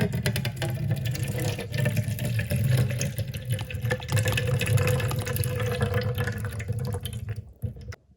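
Water drains steadily from a toy flamingo toilet, a continuous trickling and gurgling rush that tapers off and stops near the end.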